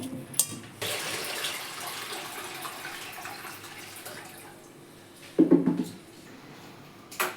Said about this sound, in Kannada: ಇವಾಗ ನೀರು ಹಾಕಿ ಇಡ್ತೀನಿ